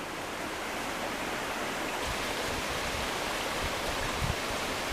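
Hurricane River rushing over its bed where it flows out into Lake Superior, a steady broadband wash of running water that holds even throughout, nearby and moderately loud, with no voices.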